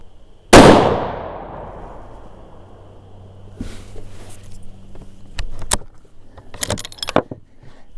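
A Weatherby Vanguard rifle in 6.5 Creedmoor, fitted in an MDT chassis, fires one loud, close shot with a long, fading echo. A few sharp metallic clicks and clanks follow, as if the action is being worked.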